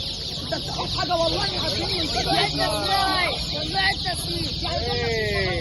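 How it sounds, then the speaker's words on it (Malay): Chicks and ducklings cheep and peep in a dense, continuous chorus at a busy market stall, the high calls loud and close. "Oh, itik, anak itik."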